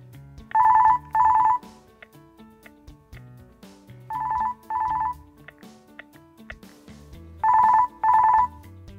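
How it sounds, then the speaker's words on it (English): A Jabra Speak 410 speakerphone plays its ringtone three times, each a pair of bright electronic double chimes separated by a few seconds of quiet, clear and close. "press and hold the Jabra icon until the ringtone is heard"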